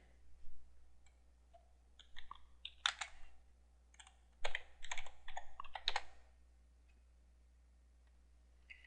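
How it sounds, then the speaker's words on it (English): Typing on a computer keyboard while entering account details, heard as quick clustered bursts of key clicks with short pauses between, close and moderately loud with no talking. "then we need to key this in."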